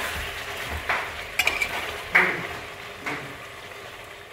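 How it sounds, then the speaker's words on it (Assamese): Potatoes with amita (green papaya) frying in a pan in a home kitchen, with repeated scraping stirs and short sizzling bursts over a steady low frying hiss, close by and moderately loud, no talk. "ভাজিব লাগিব অকণমান সময়"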